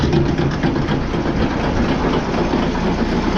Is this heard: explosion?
no